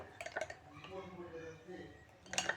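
Dhokla batter whisked in a bowl, with faint, light clinks and scrapes of a utensil against the bowl that rise in a short burst at the start and again at the end.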